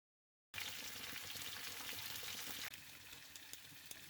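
Fish shallow frying in mustard oil on a tawa, a steady close sizzle that starts abruptly and continues evenly, easing slightly midway, with occasional small pops and no talking.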